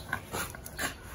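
An American Bully dog whimpering close by, two or three short, soft whining yelps with breathy gaps between them, faint and brief with no talk.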